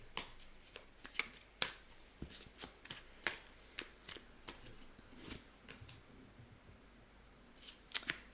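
Tarot cards being shuffled and drawn, a run of crisp, close snaps and flicks at an uneven pace with brief pauses between them and no talking.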